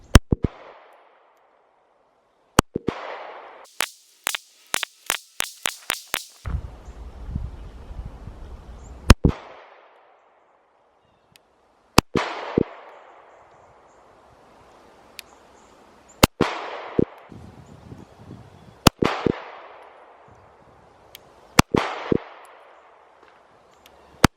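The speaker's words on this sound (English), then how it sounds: "Just keep shooting." Sharp pistol shots from a Smith & Wesson Equalizer on a shooting range ring out singly and in a quick string, each crack loud and close with a decaying echo, separated by quiet gaps.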